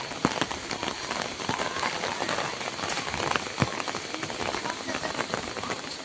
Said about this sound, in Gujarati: ઘડીક વરસાદ આવે